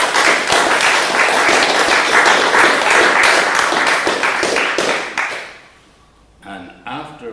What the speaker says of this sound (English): Applause for those.